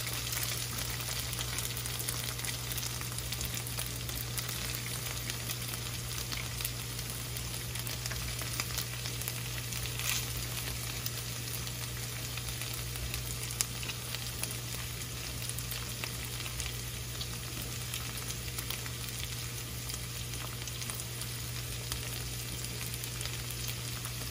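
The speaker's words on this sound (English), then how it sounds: "So I'm going to go ahead and start dropping in these peppers." Peppers frying in a hot pan for a chicken fajita bowl, a steady, even sizzle with a constant low hum underneath, continuous and close with no voices.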